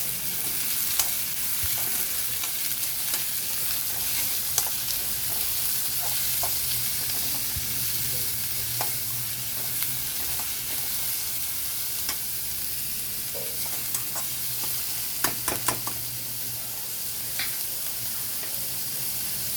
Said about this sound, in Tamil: இப்போ வந்து நம்ம வெங்காயமும் கருவேப்பிலையும் சேர்க்கணும்.